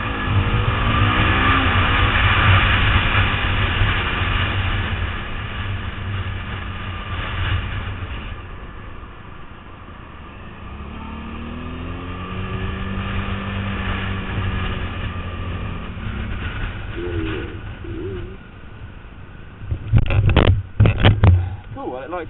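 A motorcycle rides fast on an open road, its engine droning loudly with pitch that rises and falls through gear changes and speed shifts, mixed with rushing wind and a few brief knocks near the end.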